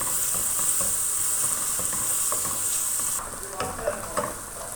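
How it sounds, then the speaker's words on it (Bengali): Chopped onion frying in olive oil in a pan for a Bengali fish-head dal, a steady close sizzle with occasional stirring scrapes, quieter toward the end. "পেঁয়াজ হালকা ভাজা হয়ে গেছে"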